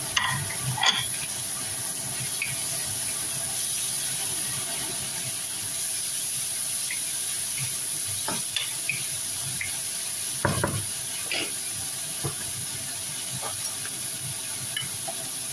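Tomatoes go into frying pakbet with pork sisig, producing a soft continuous sizzle with occasional stirring clatters and scrapes of a utensil against the pan.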